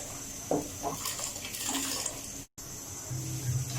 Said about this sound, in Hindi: दोस्तों, पानी हमारा बॉईल होना स्टार्ट हो चुका है।